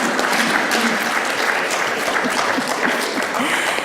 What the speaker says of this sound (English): may we have a big round of applause for masculine energy